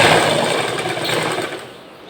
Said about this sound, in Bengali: তো চলো আমি এভাবে সেলাই করে দেখাচ্ছি।